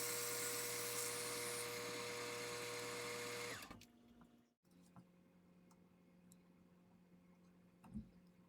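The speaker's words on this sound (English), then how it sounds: "Grinding doesn't take off too much material." A grinder works a 50-110 brass cartridge case for swaging, a loud, steady high whine that stops abruptly partway through, leaving a quiet room with a few faint clicks and taps.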